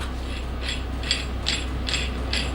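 A threaded adjusting pad on a two-post car lift being turned, in a small garage: a rhythmic series of about six short metallic ratcheting clicks, evenly spaced and fairly close, with no talk.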